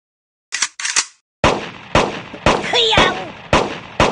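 Firearm shots in the Kick The Buddy game, a handful of sharp single cracks spaced about half a second apart after a couple of quieter clicks, close and clean with a short squeaky cartoon sound in between.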